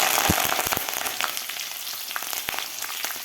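Slit green chillies and curry leaves frying in hot oil with cumin in a pan, a loud, continuous crackling sizzle with a few sharp pops and spatters, no voices.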